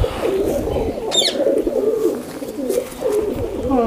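A male Sialkoti high-flyer pigeon coos steadily, a loud, close, rolling series of throaty coos that keeps repeating, with a brief bird chirp in the middle and no voices.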